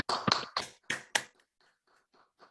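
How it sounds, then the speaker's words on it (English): Online Zoom applause at a talk on Scottish Gaelic storytelling, a handful of sharp close claps at the start trailing off into faint, scattered claps from remote participants. "It's a very strange thing as a Zoom applause"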